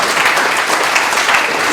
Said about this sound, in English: let us at least give Klaus a special round of applause for saving the euro.